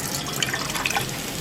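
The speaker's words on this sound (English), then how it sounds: "To this I will add a liter of water" A liter of water poured into a cooking vessel, a steady close splashing stream with bubbly trickling throughout.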